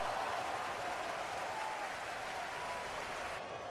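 Crowd applause at a basketball league draft as the sixth overall pick is announced, a steady, dense wash of clapping at even loudness throughout, cutting off abruptly near the end.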